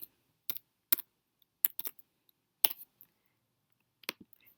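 Typing a formula on a computer keyboard in a spreadsheet: sparse clicky keystrokes in small clusters, close and crisp against near silence.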